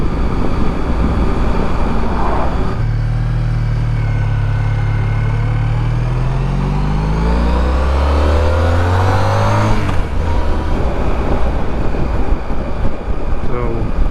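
A Honda ST1300 motorcycle riding twisty roads, its engine droning loud and close, pitch rising and falling through gear changes with a long sweeping rev climb in the middle, under constant wind rush.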